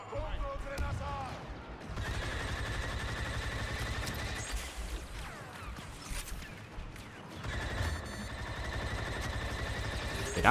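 Rapid automatic gunfire in a first-person video game, sustained bursts at close range with short pauses between them over a continuous game background.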